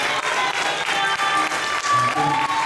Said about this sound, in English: Come on, let's give God a round of applause.